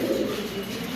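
Pigeons at a pigeon farm cooing, a continuous low, close throaty coo filling the whole short stretch with no talk.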